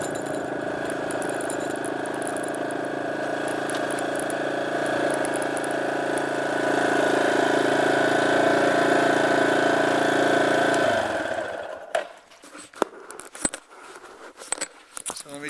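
A dirt bike engine idles steadily and loudly up close for about eleven seconds, then cuts out, leaving handling noises, rustling and clicks.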